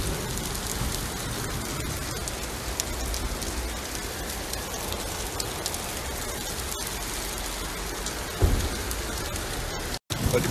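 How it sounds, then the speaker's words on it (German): A heavy summer rain shower pours down steadily, with a dense, even hiss of drops drumming on surfaces, loud and close, and a brief thump near the end. "Also das Schöne am Sommer ist ja auch so ein richtig schöner Sommergewitterregen, aber das ist hier gerade schon eher eine Dusche."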